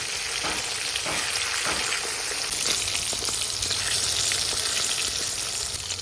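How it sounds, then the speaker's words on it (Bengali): Small sarpunti fish sizzle and crackle steadily in hot oil in a pan, a dense continuous frying hiss with a few soft knocks as they are turned, close and fairly loud throughout with no talking. "এবার অন্যদিকে উল্টে দেবো। খুব ভালো করে লাল লাল করে ভেজে নেব।"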